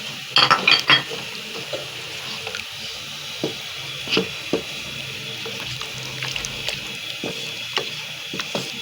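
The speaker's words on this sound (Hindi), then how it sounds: "बर्तन को अच्छी तरह साफ़ कर ले।" A cooking pot used for mutton is scrubbed clean under a running tap, with scattered metallic clinks and scrapes over steady flowing water, busier at the start and then intermittent.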